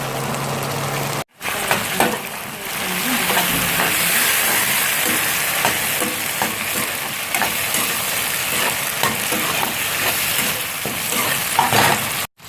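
Onions and tomato sautéing in a pan for stingray fish gravy, a steady close sizzle with frequent stirring scrapes throughout, briefly cut off near the start and end.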